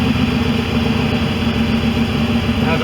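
A 1971 Land Rover Series 2A with a 3.5 V8 engine idles steadily after sitting unused for months in a garage, a loud, even, throbbing rumble close by with no talk.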